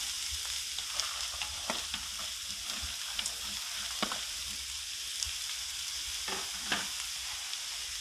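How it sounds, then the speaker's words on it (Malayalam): Mixed vegetables stir-fry in coconut oil with a coconut mix, giving a soft, steady sizzle under repeated ladle scrapes and taps against the pan, fairly quiet and close, with no speech. "നമുക്ക് ബാക്കി അരിഞ്ഞു വെച്ചിരിക്കുന്ന പച്ചക്കറികളും കൂടി ചേർത്ത് കൊടുക്കാം."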